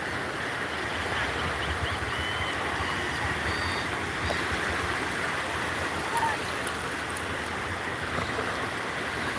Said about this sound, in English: I'd say the waves aren't really big enough to do much surfing out here